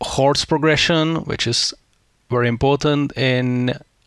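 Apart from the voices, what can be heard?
None of the usual background noises is heard.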